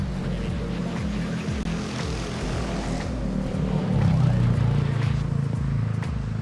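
A propeller airplane drones loudly on its takeoff run at Manila airport, its throbbing engine tone steady and then swelling stronger partway through, heard close with no one speaking.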